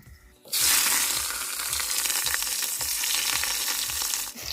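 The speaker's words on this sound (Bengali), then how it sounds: "এবার আমি এই ক্যাপসিকামগুলোকে ভেজে তুলে নেব।" Capsicum sizzles in hot oil, a sudden loud burst of frying that stays dense and crackling for several seconds, with rhythmic stirring knocks underneath before it cuts off.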